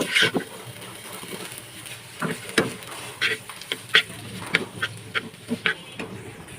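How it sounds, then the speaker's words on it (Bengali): Noodles are gently stirred in a pan, with a string of light scraping taps and clicks from the utensil over a soft, low sizzle, close by and without talk. "এভাবে নুডলসগুলোকে নাড়াচাড়া করতে থাকবেন হালকা করে"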